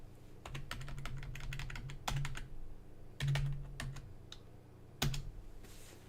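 Keystrokes on a computer keyboard as someone types a chat message in Spanish, dense rapid clicks in bursts with brief pauses, close and clear over a steady low background hum.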